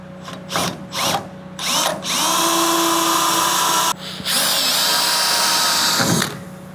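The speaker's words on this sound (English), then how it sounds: "Can't really get the drill on there." A power drill drives screws while building a custom truck flatbed, whirring in several short bursts, then running in long sustained stretches with a brief pause, loud and close.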